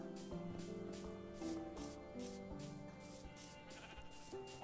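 A Minecraft Bedrock Edition sheep bleats repeatedly over a soft musical background with game-like tones, the bleats fairly quiet and spaced out.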